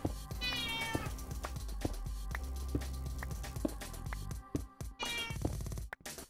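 A house cat meows a few times, close and clear, over a steady background of video-game music and soft clicking.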